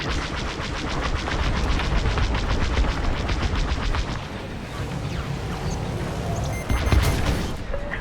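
Dense, continuous barrage of blaster fire and impacts striking a starfighter in Star Wars: Squadrons, a loud rapid crackle of shots and explosive hits running throughout with a heavier burst near the end.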